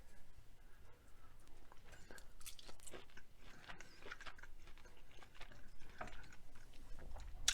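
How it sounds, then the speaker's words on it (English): Close chewing and biting on a tender reverse-seared ribeye steak, a steady run of soft crunchy mouth sounds over several seconds with faint background noise. "I'll take a smaller bite."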